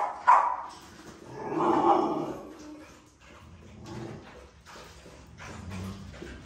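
Dogs bark indoors, a sharp close bark at the start followed by a longer burst of barking and yips, then quieter whimpers and shuffling.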